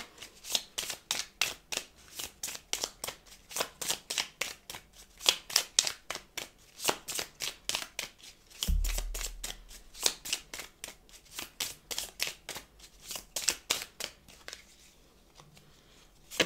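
Tarot cards being shuffled by hand in a steady run of crisp, rapid riffling flicks, with a brief low thump partway through, then quieter handling near the end, close and alone without talk.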